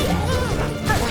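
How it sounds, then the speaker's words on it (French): A short, loud crashing impact sounds in Hollow Knight Silksong, heard as one brief smash-like burst that fills the moment, with no talking over it. "Ah bien, ça explose."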